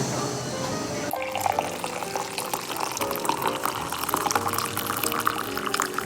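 A drip coffee maker brews a strong batch from four scoops of grounds, with a steady bubbling, gurgling hiss of hot water that starts abruptly after a quiet hum and continues throughout. A faint voice is heard in the background.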